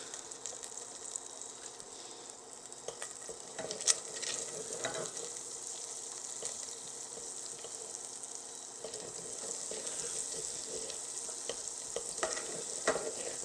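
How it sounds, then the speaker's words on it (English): Fifteen milliliters of butter melts in a pan with a soft, continuous sizzle and faint crackle, plus a few brief clinks and stirring noises, fairly quiet throughout. "Now we're just going to add 15 more milliliters of butter to what's in the pan"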